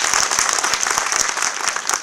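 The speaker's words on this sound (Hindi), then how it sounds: "इनके लिए जोरदार तालियों से" Loud, dense clapping from a crowd at a political meeting in Bhiwani fills the space continuously, close and energetic, with no voices above it.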